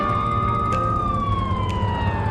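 A loud, steady police car siren in a GTA-style video game wails continuously with a slowly falling tone over a constant engine-like rumble, close and unbroken throughout.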